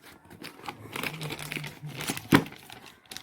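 Brochure paper crinkling while a Sun Direct set-top box is unboxed, soft rustling and crumpling close by with one sharper crackle near the end, fairly quiet.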